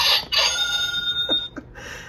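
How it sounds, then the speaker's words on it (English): An official buzzer marks a finished savings challenge with a few short, harsh electronic bursts and ringing tones, loud and close with no talking. "now I have an official buzzer"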